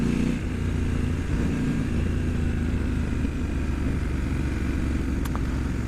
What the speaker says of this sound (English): Engine braking is pretty strong.